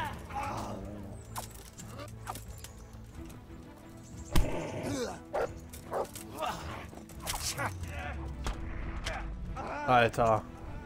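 A dog in the medieval video game Kingdom Come Deliverance barks amid busy in-game action with thuds and scuffles, the barks coming in short bursts over a cluttered background.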